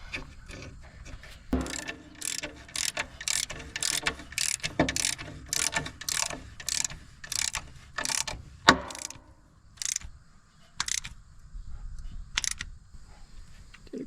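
A hand ratchet clicks in quick repeated bursts while bolting a plate back down on a 1952 Caterpillar D2 tractor, close and crisp, with a few spaced strokes near the end.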